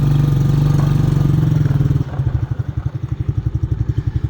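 Mikilon Hammer 125 children's quad bike engine, loud and close, running steadily then settling into a rapid, pulsing mid-pitched putter as throttle is eased on, with no talking over it.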